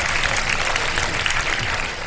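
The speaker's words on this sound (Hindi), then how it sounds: "बहुत सारी तालियां" Dense studio audience applause on a Ramadan sehri television show, steady and loud for about two seconds with no voices over it.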